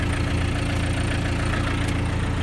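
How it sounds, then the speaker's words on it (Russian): A Japanese mini tractor engine runs cold at a steady, loud idle, with an even low-pitched rumble and a faint knocking texture throughout. "набирает обороты двигатель очень четко, никаких лишних призвуков"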